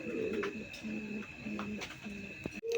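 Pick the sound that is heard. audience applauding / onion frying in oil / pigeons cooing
pigeons cooing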